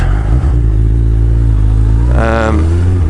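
A stock Suzuki Hayabusa motorcycle fitted with aftermarket exhaust cans rumbles with a deep, steady engine note, then its pitch rises sharply as it accelerates near the end.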